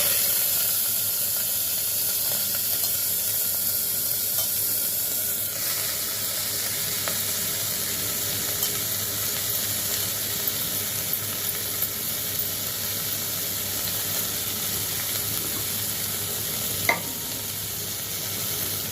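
Amaranth leaves hit hot oil in a pan and set off a steady, hissing sizzle that runs on with a light crackle and a few faint clinks of stirring.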